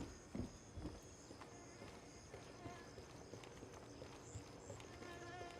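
Footsteps in the military shooter Gray Zone Warfare: a few heavy thuds early on, then quieter irregular steps over a steady game background, under faint talk.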